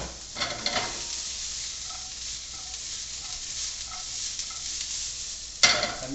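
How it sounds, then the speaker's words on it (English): Chicken sautéing in a pan for chicken parmigiana, a steady soft sizzle running throughout with a few faint stirring clicks and one sharper scrape near the end, with no talking. "I'm going to let this saute for about"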